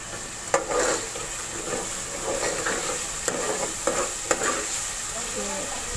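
Masala sizzles steadily in a pan while a spoon stirs through it, with several sharp scraping knocks against the metal over a continuous frying hiss, close and moderately loud with no talking.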